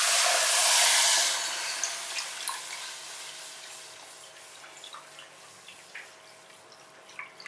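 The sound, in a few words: milk being added to the roux and mixed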